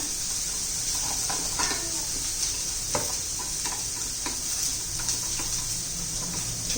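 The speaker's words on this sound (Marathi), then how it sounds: "त्यामध्ये पाणी घालूया आणि एकसारखं मिक्स करून घेऊया" Vegetables for veg manchow soup cook in a pan with water being stirred in, under a steady close hiss of sizzling, broken by light ticking spoon scrapes against the pan.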